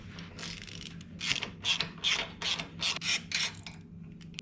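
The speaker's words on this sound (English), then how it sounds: "we're going to take our T45, remove the 2 from the peg assembly and the 1 from the master cylinder." A T45 Torx driver backing bolts out of a Harley-Davidson Softail highway foot peg assembly, heard as a series of quiet rhythmic ratcheting clicks and scraping turns, close by.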